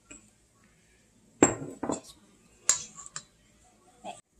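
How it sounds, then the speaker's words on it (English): Spoon stirring a flour mixture in a bowl while making finger steaks, giving a few scattered clinks and scrapes against the bowl with quiet gaps between them and no talking. "And stir it all up."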